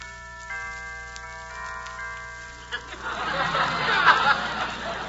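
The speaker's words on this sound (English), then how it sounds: "I'll just ring the bell." A doorbell chime on a 1946 radio comedy broadcast rings out in sustained, steady tones for a couple of seconds, then gives way to a noisy burst of crowd sound.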